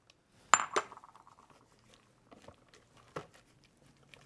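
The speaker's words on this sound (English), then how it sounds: "I'm going to scrape the sides here" A utensil scrapes and clinks against the sides of a bowl holding tomato puree and vinegar, with one sharp knock, a few lighter taps, then a later clink, all close and quiet.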